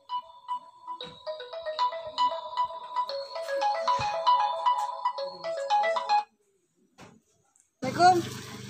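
An outgoing telephone call plays a bright, repeating electronic ringtone melody for about six seconds before cutting off, followed by a short pause and a burst of child speech.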